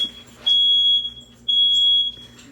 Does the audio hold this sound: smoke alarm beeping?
yes